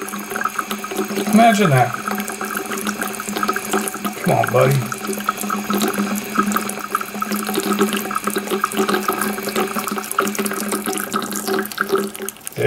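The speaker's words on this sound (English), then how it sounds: "Today, the hot water is working." Hot water runs steadily from a tap into a sink throughout, a constant close hiss and splash while someone talks briefly over it.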